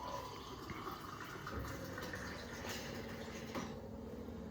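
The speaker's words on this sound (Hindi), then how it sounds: "बाकी इसमें डाल लो पानी।" Water poured from a tap or jug into a glass of milk to make a raw lassi drink, a steady close trickling and filling sound running the whole time with slight splashes.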